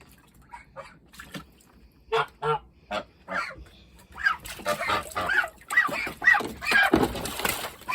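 Geese honk in a string of separate calls, sparse and moderate at first, then louder and more crowded as several birds join in close by.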